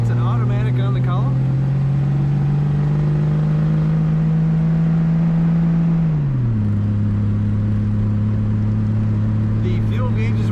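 Engine of a 1963 Ford Falcon Futura convertible with a column-shift automatic, running steadily with a smooth, even hum that dips in pitch after about six seconds, loud and close.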